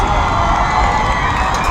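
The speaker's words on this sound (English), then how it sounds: "The crowd's getting loud for this 4th down." A high school varsity football crowd roars loudly and steadily before a fourth-down play, a dense wall of cheering and shouting from many voices.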